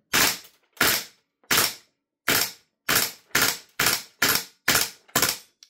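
A B&T GHM9 gas blowback airsoft gun fires ten sharp cracking shots in short bursts, each with a quick metallic clack, loud and close with brief gaps between them and no talking.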